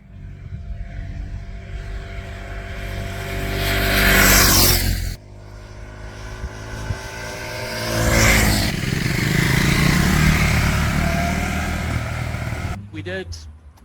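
A 2024 KTM 390 Duke motorcycle rides twisty country roads, its engine droning loud and close with harmonic tone, swelling twice as it accelerates, under wind rush and a voice talking throughout.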